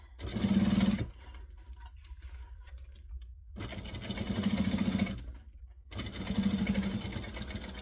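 A sewing machine stitches a koala-shaped organizer in three steady whirring runs, with quiet pauses between them, close and alone.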